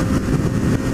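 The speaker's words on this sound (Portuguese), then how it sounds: "Passou aí uma moto que não está com a gente." A motorcycle engine drones steadily with a low, rough rumble on a foggy, cold stretch of the Fernão Dias highway during a group ride.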